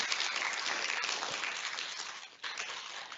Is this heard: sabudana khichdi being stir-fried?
no